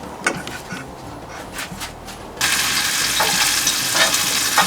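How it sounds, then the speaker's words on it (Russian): Herb patties hit hot ghee with onion in the pan, giving a sudden loud sizzle that continues as steady bright frying after a few quieter scraping and stirring sounds. "Сейчас будем жарить."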